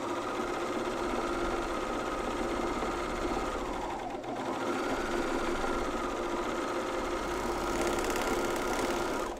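Serger or coverstitch machine sewing pajama tops, a dense continuous whirring hum with a brief dip in speed midway before resuming at full pace.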